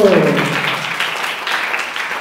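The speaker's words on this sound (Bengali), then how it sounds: "জোরে হাততালি নন্দিতার জন্য" Audience applause for a student named Nandita at a school Independence Day and Janmashtami celebration, a steady wash of clapping from many hands that follows a brief voice and carries on evenly throughout.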